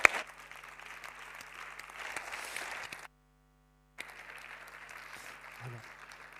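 Audience applause at a public employment planning conference, a steady sustained clapping from a hall crowd that stops abruptly, followed by a gap of near silence and then another stretch of clapping.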